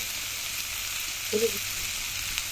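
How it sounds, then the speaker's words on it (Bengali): Boiled banana stem, fried potatoes and spices frying together in a pan, with a soft steady sizzle and a brief stirring scrape midway, heard alone. "থোর আলু ভালো করে মশলার সঙ্গে কষিয়ে নিয়েছি"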